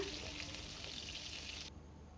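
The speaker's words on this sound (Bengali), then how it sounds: "খুব ভালো করে লো টু মিডিয়াম ফ্লেমে ভালো করে ভেজে নেব।" Dahi chicken pakora fries in oil over a low-medium flame, giving a soft, continuous sizzle and crackle that stays faint and even throughout.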